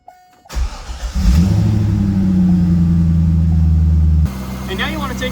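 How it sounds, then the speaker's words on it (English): A C5 Corvette engine cranks and fires up, settling into a loud, steady idle with a deep rumble close by, before the noise shifts partway through. "Next, you want to start up the car."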